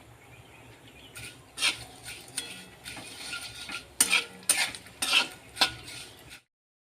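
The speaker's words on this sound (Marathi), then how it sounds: "इथे आता जावित्री तेलामध्ये भाजून घ्यायची आहे।" Mace is roasted in oil in a pan, a low sizzle beneath a series of sharp metallic scrapes and clinks from the spatula, growing busier toward the end before stopping abruptly.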